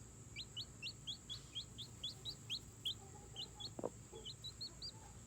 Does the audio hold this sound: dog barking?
no